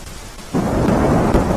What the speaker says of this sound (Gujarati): વહેલી સવારથી બનાસકાંઠા જિલ્લામાં વરસાદી માહોલ છવાયો છે